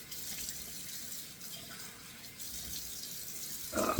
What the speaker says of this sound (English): So let me splash on 2 splashes of cold water.